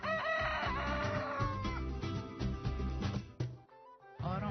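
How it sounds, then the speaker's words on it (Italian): A rooster crows with a loud, drawn-out, wavering call over the first part, then several clucks and calls follow; a short quiet gap comes before another loud call begins at the end. "Il canto del gallo!"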